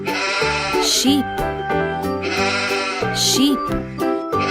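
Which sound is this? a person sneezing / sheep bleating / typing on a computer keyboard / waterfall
sheep bleating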